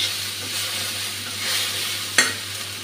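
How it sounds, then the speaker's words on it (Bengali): Spice masala frying with vegetables in a pan for a vegetarian curry, a steady close sizzle with stirring, punctuated by one sharp clatter of the utensil. "মশলাটা ভেজে নিই ভালো করে।"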